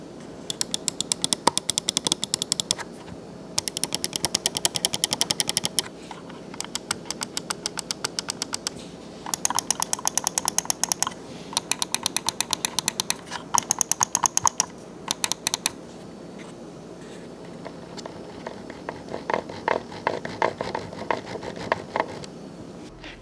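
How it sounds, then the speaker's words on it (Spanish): A Logitech G703 wireless gaming mouse clicks in rapid bursts of crisp, close taps separated by short pauses, with a steady run of lighter clicks near the end, no voices. "El sonido de clic del mouse se escucha bastante bien."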